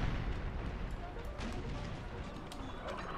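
Artillery fire in a Total War American Civil War mod, a continuous rumbling barrage of distant booms and crackling bursts at moderate volume, with a voice talking over it.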